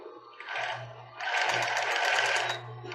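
Sewing machine stitching a backstitch on a child's bra, with two short bursts of close, steady motor whirr and needle clatter separated by a brief pause.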